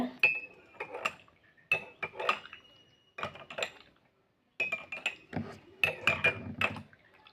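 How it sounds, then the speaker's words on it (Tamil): A spoon stirring honey into a herbal dry-cough decoction, bursts of metallic clinks and scrapes against a cup in several quick rounds separated by short pauses, close and clear. "இப்போ இந்த தேனை இதில் கலந்துடலாங்க"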